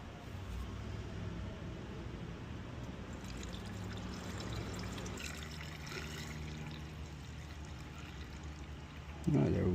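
Washer fluid pours steadily into the reservoir of a 2019 Honda CR-V in a continuous trickling stream, fairly quiet and close, ending with a brief louder knock.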